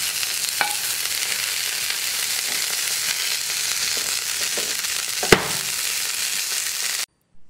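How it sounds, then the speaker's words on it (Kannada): Green chillies fry in a little oil in a hot pan for palak chutney, a close, loud, steady sizzle with a few sharp pops that cuts off abruptly near the end. "ಹಸಿಮೆಣಸಿನ್ಕಾಯಿನ ಅದರೊಳಗೆ ಹುರಿಬೇಕು"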